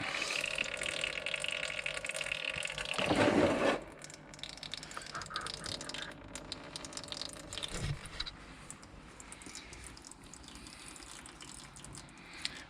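Engine oil drains from a Mk3 Golf in a dense, gurgling, glugging stream for about four seconds, then settles into a quieter trickle with occasional drips.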